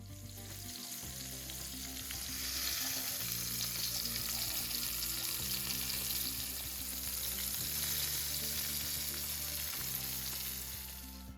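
Pork chops sear on a stovetop pan with a steady, loud sizzle and crackle that swells slightly and holds throughout, with no voices.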